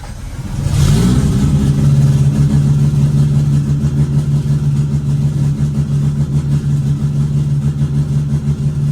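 A turbocharged bridgeport Renesis rotary engine cranks, catches within a second and keeps running at a loud, steady, rough idle close by, with no voices.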